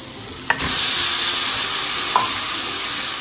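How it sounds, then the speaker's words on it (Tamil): Chicken drops into a hot pan with a sharp clatter and bursts into a loud, close, steady sizzle for Chinese soya sauce chicken, with a brief utensil scrape as it is stirred. "சிக்கனை லேசாக வதக்கி விட்டுக்கலாம்."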